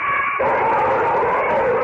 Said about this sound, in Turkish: Köpek ise acı içinde çığlıklar attı.